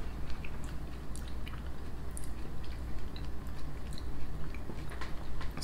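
Crunchy, moist chewing of orange-flavored biscuits close to the mic, a steady run of soft bites and squishy mastication with no talking.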